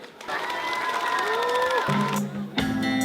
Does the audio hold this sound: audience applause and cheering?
yes